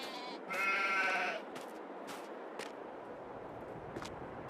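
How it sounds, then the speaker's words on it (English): Hungry sheep in the farming game Farming Simulator 22, on the Elmcreek map, give one loud drawn-out bleat near the start, followed by a few short faint sounds over a quiet, steady background hum. "These sheep are hungry. Listen to their bleats."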